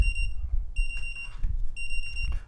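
A Mcdodo CH-1610 wireless charger's alarm clock beeps in three repeated high-pitched bursts separated by short pauses, with low rumbling background noise underneath.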